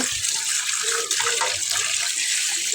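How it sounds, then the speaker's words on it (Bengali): Water runs steadily from a tap as fish are rinsed, a constant close hiss of splashing with small variations from hands moving under the stream. "তো এইভাবে সবগুলো মাছ কিন্তু ভালো করে ধুয়ে নিয়েছি"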